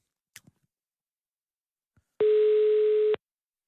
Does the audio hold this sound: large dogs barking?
no